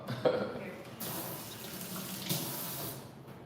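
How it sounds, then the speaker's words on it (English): Wine pours into a glass in a new apartment, a liquid stream that starts abruptly, runs, then surges again before stopping, close and moderately loud with no talking over it. "I don't know how to pour my own wine."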